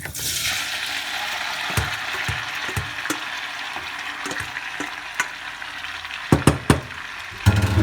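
Pasta is stirred in a pot with a little oil to keep it from sticking: a steady hiss from the pot with scattered spoon knocks and scrapes, and a cluster of sharper clacks near the end. No talking.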